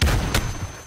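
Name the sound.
rocket launcher fire in video game Modern Warfare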